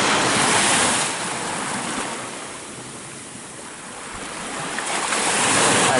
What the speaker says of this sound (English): Look how calm this sea is.